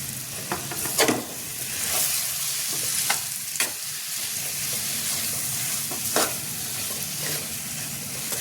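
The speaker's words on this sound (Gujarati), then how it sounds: "બધું બરાબર ચલાવીને મિક્સ કરી લેશું।" Potato stuffing for veg frankie is stirred and mixed in a sizzling pan, with several sharp spatula scrapes and knocks against the metal over a continuous frying hiss.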